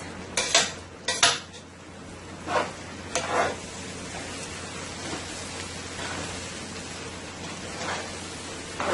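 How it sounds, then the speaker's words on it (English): Rice and meat tossed in a pot for a Caribbean pigeon peas cook-up: a few loud metallic clatters and scrapes early on, then a softer hissing sizzle that carries on alone. "Let's give this rice a nice big toss now with the meat."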